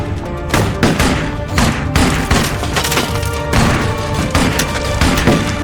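A shootout erupts around a house and a guarded car, with loud, close bursts of gunfire and heavy thuds cracking out in irregular volleys over a constant rumbling background.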